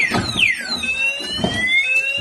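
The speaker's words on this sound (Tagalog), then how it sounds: "maririnig nyo po yung maikling alarm yan" An e-trike's anti-theft alarm, set off with the remote key, gives a loud siren of sweeping, warbling electronic tones that runs the whole way through.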